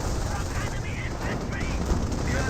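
Sniper and rifle gunfire from a Company of Heroes 1 match, a dense stream of battlefield shots and explosions rolling on steadily, with a commentator's voice running over the top.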